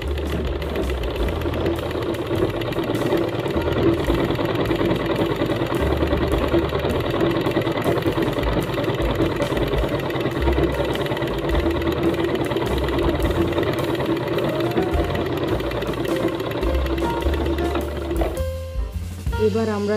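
A sewing machine runs a long straight seam along a fabric sleeve, giving one unbroken, loud, close mechanical hum for nearly twenty seconds before it winds down at the end.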